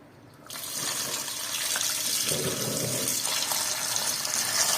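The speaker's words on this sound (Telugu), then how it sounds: "మటన్ అంతా శుభ్రంగా వాష్ చేసుకున్నాము. 4-5 సార్లు నీట్గా కడుక్కుందాము." Pieces of mutton are washed in water for a curry, a steady loud gush of running water starting after a brief quiet moment and continuing unbroken.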